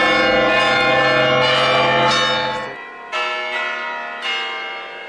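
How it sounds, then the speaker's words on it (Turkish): A church bell rings loudly with rich, sustained tones, the first long peal fading out before two more separate strikes ring and decay. "Hristiyan bir ülkede olduğunuzu her daim hatırlatan bir ses olan çan sesini"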